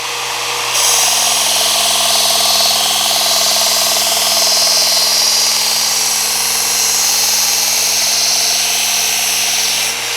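A knife blade is ground on a powered sharpener until a burr forms, giving a loud, steady motor whir with a high grinding hiss that continues unbroken for about nine seconds, close up.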